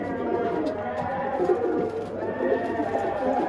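A pigeon coos in low, rolling tones close by, with a murmur of background noise.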